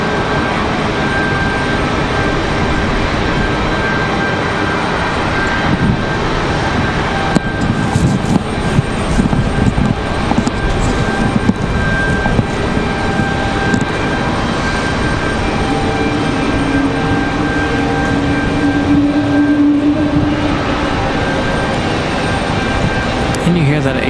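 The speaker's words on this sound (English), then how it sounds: "And you hear that A220 making final adjustments into the gate" Airbus A220 and Boeing 757 jets taxi at Raleigh Durham International Airport, with a steady loud engine roar and whine under windy outdoor noise, with faint speech-like sounds at times.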